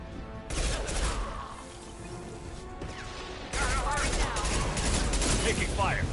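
Mass Effect 2 combat fills the air with rapid, overlapping bursts of gunfire and crashing impacts, loud and dense throughout, with a brief drop in intensity before a heavier second volley and voices mixed underneath.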